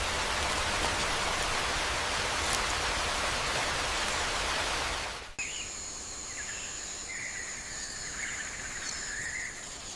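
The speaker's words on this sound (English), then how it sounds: "High in the canopy, the torrential downpour tests the limits of the nest" Torrential rain pours onto the rainforest canopy of the Amazon, a dense, steady hiss that fills the first half before dropping abruptly to a quieter wash of rain, with faint high bird or insect calls above it.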